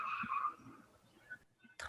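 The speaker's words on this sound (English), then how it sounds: "Sounded very stereotypical car screech" A car's tires squeal outside an apartment on a city street at night, a sustained screech in the first half-second that fades and trails off, followed by a brief sharper burst near the end; no one speaks.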